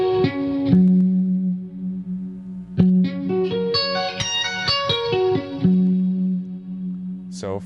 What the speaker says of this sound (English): continue all consecutive upstrokes to finish off the arpeggio